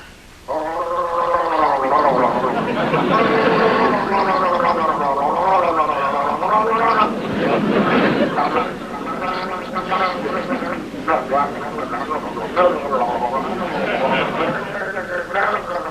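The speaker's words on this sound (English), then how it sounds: "Any normal person would gargle quietly" A person gargles loudly and at length in a warbling, yodel-like way, close and continuous, with wavering vocal tones for most of the stretch.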